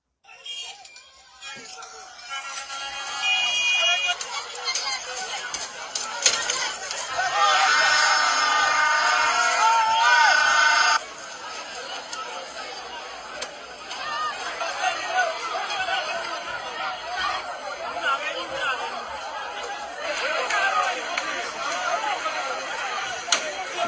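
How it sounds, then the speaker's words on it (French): A large crowd of Nigerien people chattering outdoors: dense, continuous babble of many voices with shouts rising and falling, loud and close throughout. "Vous voyez la foule?"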